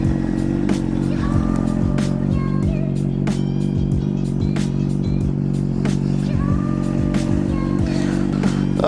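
A motorcycle idles and rumbles steadily at close range, its low engine drone constant throughout, with light clicks and rattles above it.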